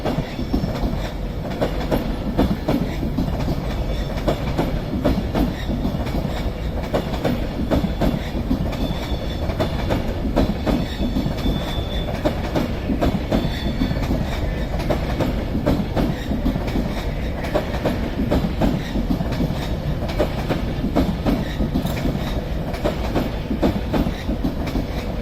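A Transport for Wales passenger train pulling out of Crewe station on the West Coast Main Line, a loud continuous rumble of wheels and engine with rhythmic rail clatter and faint squeals throughout, no voices.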